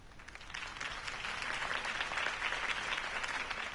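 Steady crowd applause follows a campaign speech for Harvey Dent in the video game Batman: The Telltale Series. The clapping holds at a moderate level for several seconds, a little distant, with no talk over it.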